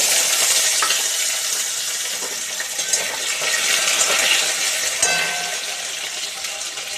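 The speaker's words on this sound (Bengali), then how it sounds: "কালো জিরে ফোড়ন দিয়ে আলুগুলো ভাজব তেলটা গরম হয়ে গেছে কালো জিরে ফোড়ন দিয়ে দিলাম এবার এর মধ্যে কাটা আলুগুলো" Cut potatoes hitting hot oil tempered with nigella seeds, a loud, dense, continuous sizzle close by with small pops and occasional clinks, holding steady for several seconds without any voice.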